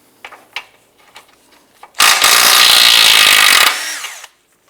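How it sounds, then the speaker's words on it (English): A hand ratchet with an 18mm socket loosens the lower ball joint nut on a 2005-2009 Subaru Outback, heard as a few light clicks and then a loud, steady stretch of dense rasping that stops abruptly. "Using an 18mm socket, I want to go ahead and remove the lower ball joint nut."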